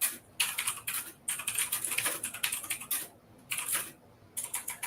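Rapid clacking of keys on a computer keyboard, typed in quick bursts with short pauses between runs, close and clear with no talking.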